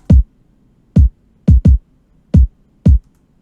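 Six punchy electronic kick drum hits with boosted velocity, loud and isolated, with deep booming thumps in an uneven rhythm and silence between them.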